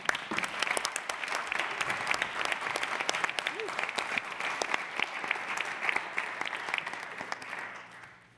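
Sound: applause in city council chamber

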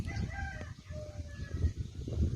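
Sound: domestic chicken crowing

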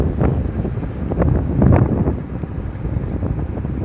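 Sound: fishing boat going out to sea

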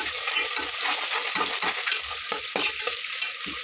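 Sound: ginger paste frying in oil for chicken haleem

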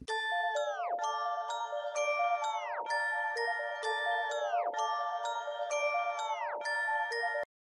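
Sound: tinkling chime sounds in a played music track

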